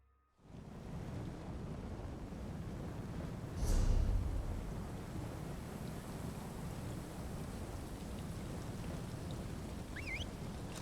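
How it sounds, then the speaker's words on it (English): Rain and wind from a coming storm in Elder Scrolls Online, a steady, broad hiss of rainfall with a low rumble swelling briefly near four seconds, continuous and without voices. "Definitely a storm coming."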